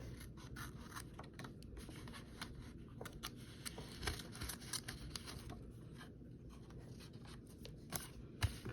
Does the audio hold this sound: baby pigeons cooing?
no